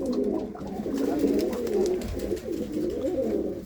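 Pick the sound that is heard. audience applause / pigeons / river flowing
pigeons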